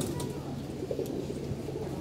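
Low, rolling coos from pigeons let out to feed outside in the sunshine, a continuous murmur at moderate distance over a noisy outdoor background.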